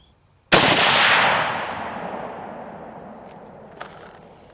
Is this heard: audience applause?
no